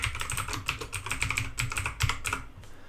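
Quick, close clatter of keys on a computer keyboard, a brisk run of typed keystrokes entering a program name on a Windows PC, steady and fairly loud for a few seconds.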